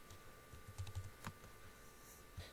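Several light keystrokes on a computer keyboard, typing a short search query, clustered near the start then a lone final key press, quiet and close with no talk.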